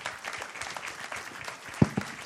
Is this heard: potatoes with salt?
no